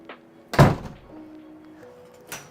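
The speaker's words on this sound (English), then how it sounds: "I'm actually gonna shut the door" A door is shut indoors with one solid, close thunk, followed by a faint hum and a smaller knock near the end.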